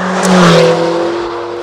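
A 2022 McLaren GT's V8 drives hard along a winding road, its loud, steady engine drone holding close and continuous, with a brief rise in intensity early on and no voices.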